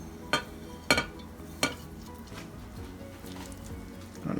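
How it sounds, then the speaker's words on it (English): Shredded sharp cheddar cheese being whisked into a pot for homemade macaroni and cheese, with a few sharp metallic clinks of the whisk against the pot early on, then soft stirring noise. "Get that all whisked up."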